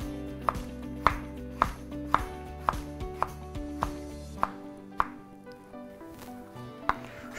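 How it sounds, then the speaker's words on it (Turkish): A knife dices tomato into small cubes on a cutting board while making a Ramadan kebab, giving about a dozen crisp, fairly evenly spaced chops, close and clear, with no talking. "Domatesi de yine aynı şekilde küp küp doğrayacağım."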